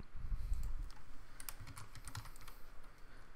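Quick, light keystrokes on a computer keyboard while renaming a file, a soft close run of clicks at low level with no talk.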